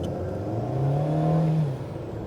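An Alpine A110R on a race track revs up, its engine note rising and swelling loudly for a second before easing off, close and alone.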